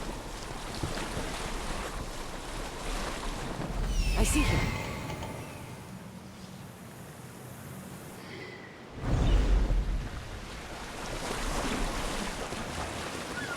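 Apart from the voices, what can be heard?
boat on ocean waves in video game Assassin's Creed Odyssey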